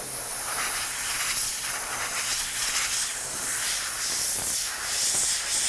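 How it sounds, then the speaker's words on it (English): An airbrush spraying paint in a stipple splatter effect, a loud close hiss pulsing in repeated short bursts as the trigger is worked. "Pull the trigger on the airbrush and it makes it splatter"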